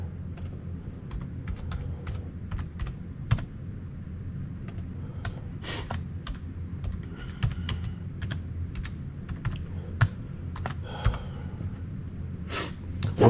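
Password being typed on a computer keyboard at a lectern, with irregular bursts of light, close key clicks over a low room hum, plus a few louder clacks and soft breaths.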